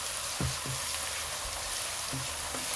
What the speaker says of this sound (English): You fry it for some time.